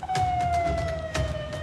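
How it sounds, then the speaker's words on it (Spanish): A neighbourhood anti-theft alarm siren installed on a street in Trujillo wails as a loud, sustained electronic tone with a slowly falling pitch, close by and alone. "Voy a activar la sirena cuando pasa algo"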